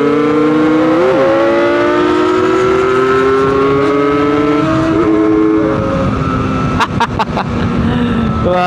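A Rusi RXT 135 Classic two-stroke motorcycle engine revs up and down in steady, rising and falling pitch, loud and close, with a few sharp mechanical clicks near the end.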